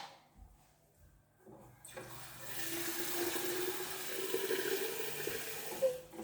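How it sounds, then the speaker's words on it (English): Tap water runs into a pot of beans being cooked, starting faintly after a few soft clunks and then pouring steadily and moderately loud until the end, close by with no talking. "So I will add more water."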